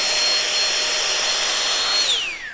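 A TAILI cordless electric vacuum pump sucks air out of a storage bag with a loud, steady high motor whine close by, then spins down and fades at the end.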